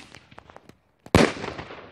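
A Thunder King firecracker goes off in a single sharp, loud bang with a rumbling, fading tail, after a moment of soft background rustling.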